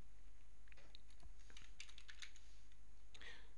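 Quiet, irregular clicks of typing on a computer keyboard, a scattering of soft keystrokes over a steady low hum, with no talk.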